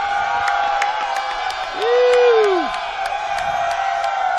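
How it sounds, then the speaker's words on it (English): Fans at the RedBud motocross race make a dense, continuous crowd roar, with a single loud rising-and-falling whoop in the middle and scattered shouts throughout. "the crowd's still fired up here at RedBud."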